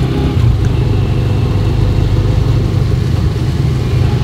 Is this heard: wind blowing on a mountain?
no